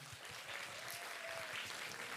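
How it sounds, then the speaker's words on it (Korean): Brief, faint applause from a small group at a church prayer service, steady clapping with no voices over it. "우리 환영한다고 박수 하시겠습니다"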